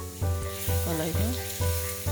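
Fiddlehead fern pickle spices with a half spoon of turmeric sizzle and fry in a pan while being stirred, a steady close sizzle with a low hum and a few rising tonal squeaks mid-way.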